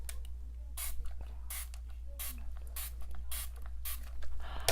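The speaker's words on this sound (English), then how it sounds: "I'm about to spray my face" A handheld spray bottle filled with plain water mists onto a face in about seven short, crisp bursts spaced roughly evenly, each a quick hiss over a low background hum in a quiet room.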